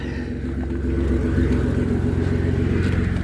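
A 2008 Pontiac G6 engine running steadily close by, a continuous low rumbling idle with a faint whir and no break over a few seconds.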